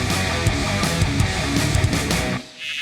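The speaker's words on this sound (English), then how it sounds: "Cicadas sing, or let's be honest, scream to attract a mate." Loud, dense buzzing drone of cicadas singing to attract a mate, a harsh continuous shrill with pulsing texture that drops away abruptly near the end.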